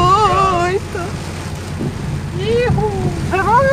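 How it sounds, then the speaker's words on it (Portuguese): Heavy rain pours steadily in a broad, loud hiss, with gusts of wind through it, while voices speak over the downpour at intervals. "a chuva aumentou muito."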